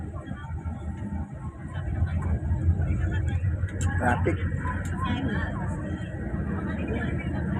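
Slow road traffic beside roadworks in Silang, Cavite: a continuous low engine rumble with passing vehicles and clanks, while people talk nearby.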